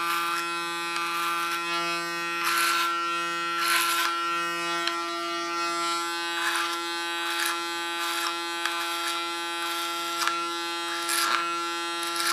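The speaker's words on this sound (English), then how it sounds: "You can hear that the clipper has to work" Electric hair clipper buzzes steadily while cutting through strong, thick hair on a woman's short haircut, the motor droning close up with repeated bursts of louder strain as it bites into the hair.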